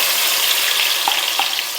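Loud, steady sizzling of crushed shallots and garlic frying in hot oil, close up, with a few small pops breaking through the continuous hiss.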